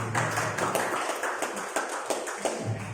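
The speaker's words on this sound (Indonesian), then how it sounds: "Tepuk tangan buatnya." A classroom group claps together in a quick, uneven burst of applause that continues steadily for a few seconds at moderate loudness.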